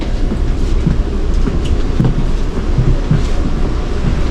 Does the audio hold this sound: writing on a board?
no